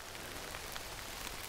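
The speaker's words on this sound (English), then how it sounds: "it's raining really well now" Steady, dense rainfall outdoors beside a greenhouse under construction makes a broad, even hiss with faint scattered drop patters, constant and fairly close, with no voices.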